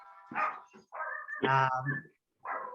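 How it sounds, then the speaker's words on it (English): Dogs bark in a home in a few close, sharp bursts with short gaps between them, one loud run of barks in the middle and a final yap at the end. "we got a food delivery and have some barking maybe here"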